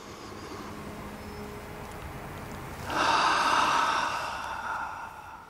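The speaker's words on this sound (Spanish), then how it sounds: "Así que vamos a realizar varias respiraciones." A deep diaphragmatic breathing exercise in a speech-therapy demonstration: a long, airy exhale that swells in and fades, heard close over a faint steady background hiss.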